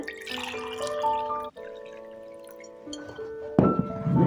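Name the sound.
water being poured into chia seed drink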